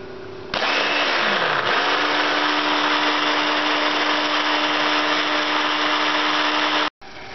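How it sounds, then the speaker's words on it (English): A blender purées cooked tomatoes and chilies for chorba hamra, a damp cloth over the lid, running as a loud steady whir for about six seconds before cutting out abruptly. "And now I'm going to start blending."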